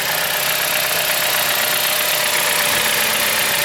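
A 2007 Chrysler Sebring engine idles steadily after a valve cover gasket repair and a new belt. The sound is loud, close and continuous, with a dense, even mechanical hum and no talking.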